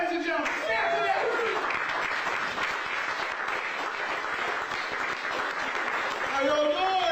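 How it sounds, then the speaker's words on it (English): Theater audience at a black box venue breaks into a warm, sustained round of applause for Stan Tunnell, dense steady clapping filling the room, with a voice speaking over it at the start and again near the end. "Please give a warm round of applause for Mr. Stan Tunnell, ladies and gentlemen."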